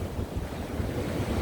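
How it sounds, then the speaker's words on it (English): Sea waves break and wash onto a UK beach with the tide coming in, a continuous low rumbling surge under heavy wind buffeting on the microphone, with no speech. "See, the waves are hitting it."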